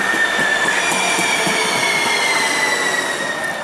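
Commuter train wheels roll over rails with steady clunking and rumble, while thin high squeals ring above the noise throughout, close and continuous, with no talking.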